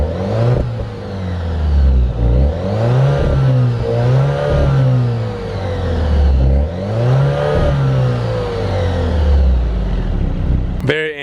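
Exhaust of a 2020 Alfa Romeo Stelvio with the 2-liter engine, revved repeatedly at idle, each rise and fall of pitch close and loud, several blips in a row, with no talk over it.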